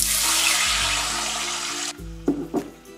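Water pours into a hot frying pan of garlic and oil, a loud rushing hiss and sizzle that cuts off abruptly, followed by a couple of clunks.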